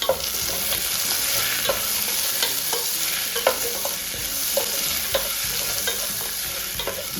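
Diced potatoes with tomatoes fry in a pan for a spinach-potato curry, giving a steady, close sizzle broken by regular scraping stirs of a spoon against the pan.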